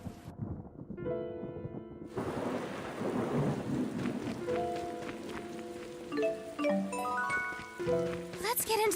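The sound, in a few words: thunder during rain in Tales of Xillia 2 video game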